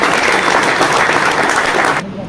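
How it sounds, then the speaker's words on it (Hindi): Loud audience applause fills a tournament prize distribution ceremony, dense and steady clapping that ends abruptly near the close. "जोरदार तालियों से उनका स्वागत करें"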